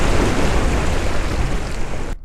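Ocean waves from the Scatterer water mod in Kerbal Space Program, a loud, steady rushing surf with wind-like noise that cuts off abruptly at the end; no talking.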